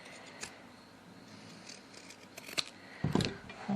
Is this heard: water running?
no